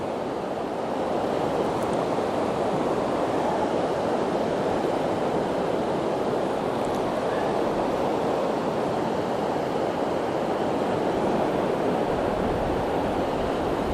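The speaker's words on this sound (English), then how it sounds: "Get some good shots of the waves." Surf rolling onto a beach, a dense continuous rush of breaking waves mixed with wind buffeting the microphone, steady throughout with no voices.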